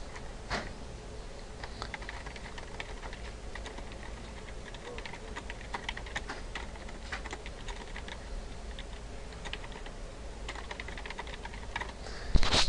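Typing on a computer keyboard while entering welcome text on a course home page, steady quiet clicking with irregular rhythm, close and alone.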